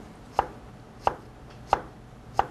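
A knife slicing cucumber on a cutting board, four evenly spaced sharp knocks over a couple of seconds, close and crisp with quiet between cuts and no talking.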